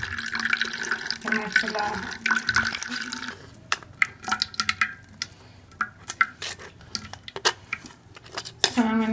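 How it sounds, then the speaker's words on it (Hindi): Tomato mixture for homemade ketchup is pushed through a sieve, with scraping utensil clicks and wet squishing close by, while someone talks over the opening seconds. "हम छन्नी में डाल के जो है वो छान लेंगे"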